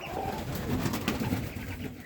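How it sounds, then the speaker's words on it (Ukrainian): Soft cooing of pigeons, several low burbling calls in a row, fairly close in a quiet setting. "Є молоді голуб'ята."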